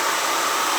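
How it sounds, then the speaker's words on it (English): Steady broadband whoosh of a hair dryer running on its cool burst setting, loud and close, constant airflow noise with no voices. "I think I turned on my cool burst."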